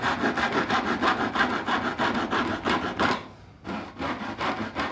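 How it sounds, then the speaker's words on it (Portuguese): A handsaw cuts wood for a dovetail joint in rustic woodworking, with loud, rhythmic back-and-forth rasping strokes, a brief pause, then several more strokes close by. "eu posso pegar o serrote e fazer isso. Perto do rasgo, eu corto ele, com ele totalmente em pé, eu serro até a linha"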